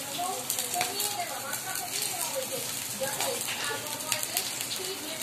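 Pumpkin leaf fritters (bora) fry in oil with a continuous rain-like hiss and crackle. A voice talks over the sizzling.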